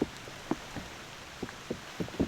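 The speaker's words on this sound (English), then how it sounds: "it's raining. It's supposed to rain on and off all day." Rain falls in the woods during a bowhunt, heard as scattered drips and patters striking nearby surfaces, with quiet stretches between the soft taps.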